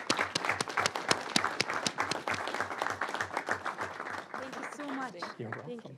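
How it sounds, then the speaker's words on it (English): Audience applause at a city council meeting in Kirkland, a burst of many hands clapping in a room, fairly close and sustained, fading out as voices begin talking near the end. "Applaud now."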